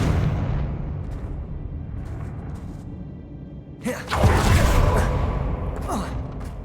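A Confringo fire spell from Hogwarts Legacy bursts in a single sudden, booming blast after a calmer stretch of game ambience, followed by a rumbling tail.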